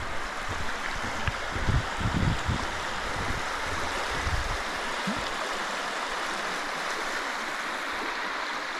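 The Ale Water, a stream along the St Cuthberts Way in the Scottish Borders, flows with a steady broadband rush, with some low wind buffeting early on and no talking.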